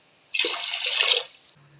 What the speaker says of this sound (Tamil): 6 கிளாஸ்க்கு தண்ணி ஊற்றணும்.